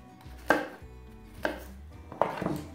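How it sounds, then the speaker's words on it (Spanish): A knife chopping garlic and parsley on a board, three separate sharp thuds spaced about a second apart, close and clear against a quiet room. "Vamos a hacer una picada de ajo y perejil."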